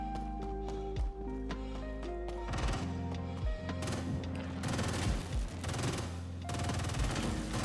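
Rapid bursts of gunfire from a video game shooter fired at spawning enemies, crackling over a dense bed of game music and noise, the shots clustering into rattling volleys midway through.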